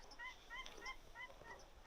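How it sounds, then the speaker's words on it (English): Paradise ducks calling outdoors near a lake on a cold winter morning, a series of faint, repeated honking calls in quick succession with a quiet background. "Paradise ducks."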